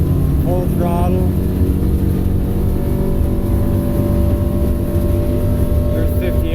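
A 21-foot North River Fastback runs at full throttle against a current, its outboard engine droning loud and steady with a high sustained whine and wind and water rush, a voice briefly audible over it.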